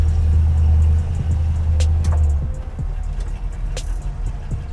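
A 1983 Jeep CJ-7 with a swapped 350ci V8 rumbles at low pitch as it pulls away on an off-road drive, the loud engine drone easing slightly partway through, with a few faint knocks and rattles on top.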